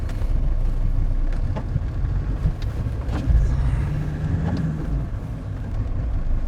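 A car moves along a road in traffic, producing a steady low engine and tyre rumble with wind buffeting, plus a brief passing vehicle swell midway.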